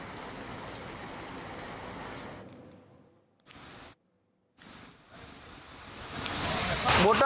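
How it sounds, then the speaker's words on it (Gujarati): Heavy evening downpour pours onto the streets of Botad town, a dense, steady hiss that drops out briefly partway through, then returns and swells louder toward the end. "બોટાદ શહેરમાં સાંજના સમયે અચાનક વાતાવરણમાં પલટો આવતા ધોધમાર વરસાદ વરસી રહ્યો છે"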